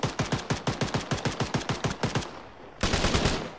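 Fully automatic M4 rifle fire in the Arma 3 video game: a rapid even burst of about fifteen sharp shots, a brief pause, then another dense burst, close and loud.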